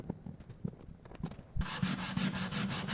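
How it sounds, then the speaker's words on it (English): A guitar body is hand-sanded to remove final blemishes, with faint scattered rubbing and tapping at first, then steady, close rhythmic strokes of sandpaper across the wood with no voices. "After a quick final sand to get rid of some last blemishes"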